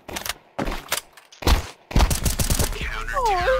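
Gunfire in a CS2 workshop map comes in several sharp, separate bursts with brief gaps, loud and close, ending in a denser stretch of shots mixed with whooshing in-game effects.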